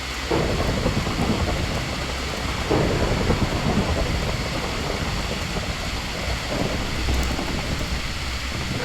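Rain in the video game NoMoon, a loud, even, continuous hiss of heavy rainfall with a low rumbling undertone, steady throughout with no voices.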